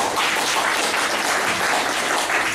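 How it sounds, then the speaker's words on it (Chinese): Audience applause at a public talk, a loud, dense burst of clapping from a crowd that holds steady throughout the brief moment with no voices heard. "请大家热烈掌声"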